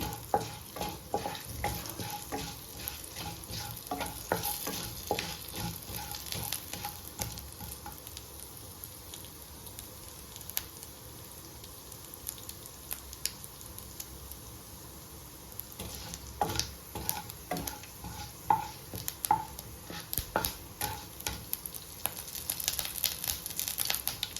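Urad dal and mustard seeds crackle and fry in hot oil, a steady busy sizzle with scattered sharp pops and occasional stirring clatter, close and continuous for the whole stretch.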